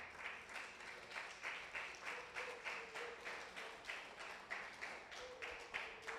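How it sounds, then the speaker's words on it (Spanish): Congregation applause at an evening Spanish-language church service: steady, fairly faint rhythmic clapping with a regular beat throughout, heard from some distance with no talking over it. "Denles aplauso al Señor."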